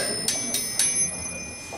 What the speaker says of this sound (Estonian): millel on nagu jalgrattakellad küljes.